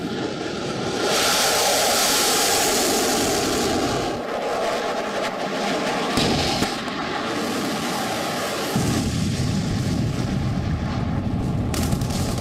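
A fighter jet's loud, continuous roar fills the whole stretch, with broad rushing noise that shifts in intensity but never stops. No voices.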